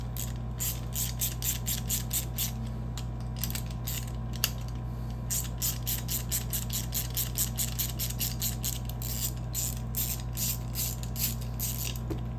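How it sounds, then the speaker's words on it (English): Ratchet wrench quickly clicking out two 11/32 bolts from a bracket inside a Stern James Bond 007 pinball machine, rapid close ratcheting bursts in rhythmic runs with brief pauses, no talking. "That bracket has 2 11/32 bolts, so you want to take those 2 bolts out."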